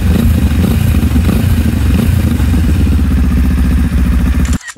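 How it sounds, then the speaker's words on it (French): A motorcycle fitted with a Storm GP aftermarket silencer revs loudly and close, a throbbing, rumbling exhaust note held for several seconds before cutting off abruptly at the end. "Allez, on fait un petit coup d'accélération."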